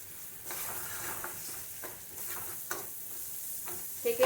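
Sugar and crushed peanuts are stirred in a hot pan over a raised gas flame, giving a soft frying sizzle broken by repeated scraping strokes and a few light clinks against the pan.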